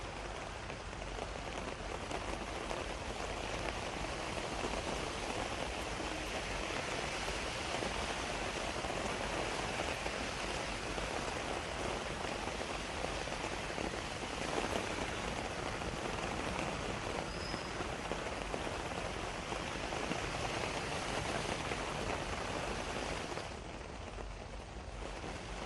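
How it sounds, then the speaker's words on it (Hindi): Monsoon rain falls heavily across Delhi-NCR, a dense, unbroken hiss of downpour on hard surfaces that stays loud and even throughout with no voices. "बारिश हो रही है।"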